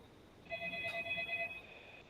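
A telephone rings once with a bright, warbling electronic trill lasting about a second, clear against a quiet room.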